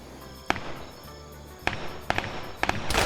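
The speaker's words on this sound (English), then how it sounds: "Mortar rounds coming in, hitting around this building" Mortar rounds landing around a building in a multiplayer military shooter match, a series of sharp, booming blasts spaced irregularly, the last few coming close together and loud.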